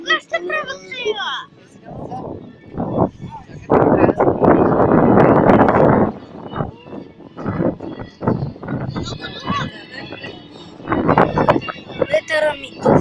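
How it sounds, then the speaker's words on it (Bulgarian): Gusts of wind buffet the microphone in rumbling bursts while people talk nearby at a Todorovden festival, the roar swelling loudest midway through. "Ветера ми духа."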